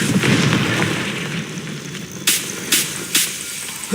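Confringo fire spell blasts in Hogwarts Legacy: a roaring burst at first, then three sharp, evenly spaced explosive bangs fairly close and loud.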